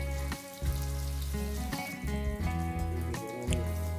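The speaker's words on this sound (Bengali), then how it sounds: "মাছগুলো ফ্রাই করতে বেশি সময় লাগবে না, আর আমি এটাকে শ্যালো ফ্রাই করব।" Prawns sizzle in hot oil over a medium flame, a steady close crackle that carries on for the whole stretch beneath a bed of sustained tonal background music.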